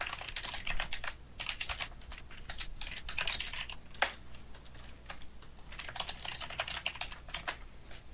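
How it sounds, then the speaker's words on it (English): Rapid computer keyboard keystrokes clatter steadily through a Skype voice call, with a few sharper key hits and a faint steady hum beneath; nobody speaks. "I hear like just the keyboard strokes coming through over the Skype call"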